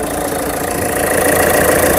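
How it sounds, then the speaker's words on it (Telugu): A car engine idles smoothly with its bonnet open, a steady, even hum that holds close and constant with no speech. "సౌండ్ అయితే బండి అయితే స్మూత్ అయితే ఉంది."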